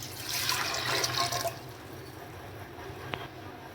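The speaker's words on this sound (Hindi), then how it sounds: "अब देखिए इसको कुकर में डाल रही हूँ, साथ में अब पानी डाल रही हूँगी।" Water pours into a pressure cooker of rajma with a splashing gurgle for about a second and a half, then stops, leaving quiet room tone and a single small clink.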